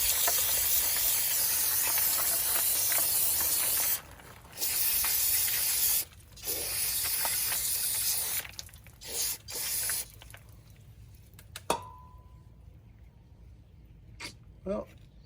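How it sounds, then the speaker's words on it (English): Cleaner sprayed in loud hissing bursts onto Dodge Ram rear axle parts during seal replacement, several long continuous blasts separated by short pauses, then quieter clicks and a brief tap near the end. "spray off some more of some of these parts."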